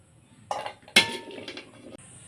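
Boiled jackfruit seeds being strained, with a pot and metal utensils clinking close by: a few sharp metallic clanks and clatters over a second and a half, the loudest in the middle, with no voices.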